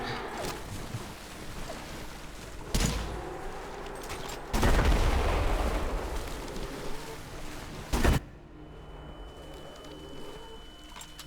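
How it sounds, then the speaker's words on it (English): Heavy tank gun fire in the ADACA video game: a few loud, broadband blasts, with a big booming burst in the middle and a sharp final shot, over quieter game ambience. "Didn't like the tank gun very much"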